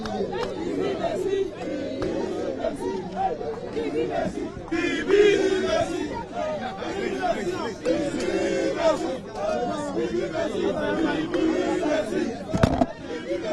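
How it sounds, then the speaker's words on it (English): An agitated crowd at a polling station in Ghana shouts and chatters all at once, voices overlapping in a loud, restless babble with occasional sharper cries and a sudden thump near the end. "The crowd is getting uncontrollable here."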